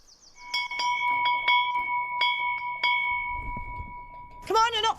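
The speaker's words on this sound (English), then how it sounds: "When you hear the bell, you move." A bell rings in a run of sharp, evenly spaced strokes as an air-raid drill signal in a 1940s wartime evacuation setting, each strike with a long sustained ring, followed by a brief shout.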